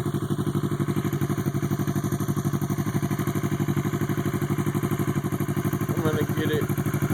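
Kawasaki ER6n motorcycle fitted with a loud Jardine GP1 exhaust, running close by with a steady rapid pulsing note throughout and a brief higher lift near the end.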